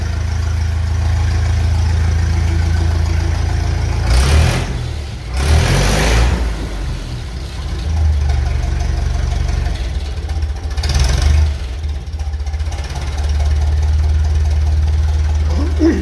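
An old car engine fitted with a 1956 Lucas D3A4 distributor runs with a steady low rumble, swelling into a couple of brief revs before settling back to a rough idle.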